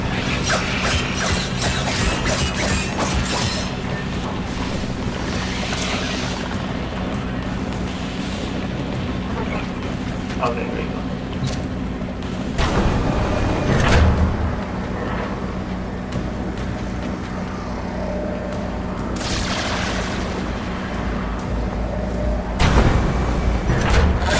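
Mechanical door workings in Warframe clank, grind and slide in a busy stretch of sci-fi game sound, with ratcheting bursts and a couple of heavier thuds over a steady hum.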